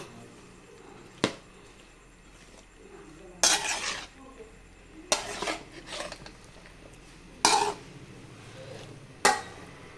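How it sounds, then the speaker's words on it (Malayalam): A few scattered scrapes and clinks of a spoon stirring tapioca cooking in coconut milk in a pot, separated by quiet pauses, with a faint hum in the background. "തീ ഓണാക്കിയിട്ടുണ്ട് നമുക്കൊന്ന് ഇളക്കി കൊടുക്കണം കേട്ടോ"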